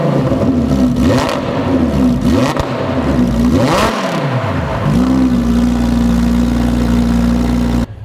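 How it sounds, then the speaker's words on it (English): Close and loud, a Lamborghini on its stock exhaust is revved hard several times in quick rising and falling bursts, then settles into a steady, rumbling idle before cutting off; no one speaks. "we're gonna start it up right now and get you some stock exhaust clips to show you before and after we put the ripped exhaust on"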